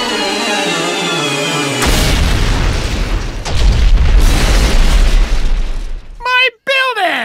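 The Doofenshmirtz Evil Incorporated building being destroyed in a Phineas and Ferb cartoon, a loud sustained rumbling blast with crashing debris that cuts in after a voice, then gives way to a voice at the end.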